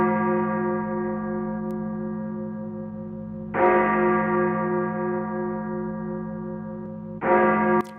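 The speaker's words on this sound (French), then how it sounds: "Les cloches des églises réveillent les cœurs de ceux qui veulent se recueillir devant le crucifix de Jésus." Church bells ringing on a Sunday: two heavy, resonant strikes about four seconds apart, each with a long humming decay that fills the gaps, loud and steady with no voices.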